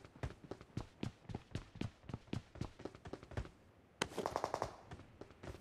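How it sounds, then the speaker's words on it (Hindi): Automatic gunfire in the BGMI battle-royale mobile game, rapid sharp shots in a steady rhythm of bursts, faint and distant, then a louder cluster of noisy hits near the end, with no talk over it. "तो भाई लेफ्ट से भाई गोली चल रही होती है।"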